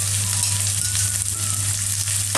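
Plenty of garlic frying in a hot pan, a loud, dense, continuous sizzle close up for the whole stretch, with no talk over it.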